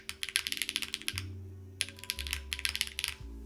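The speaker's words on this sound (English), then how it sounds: "Actually, maybe the space bars do sound a little bit different on this." Typing on a Vany Alice keyboard with a tented butterfly-style layout: quick bursts of clacky keystrokes with a slight metallic ring, set against a low steady hum, with a short pause partway through before the typing resumes.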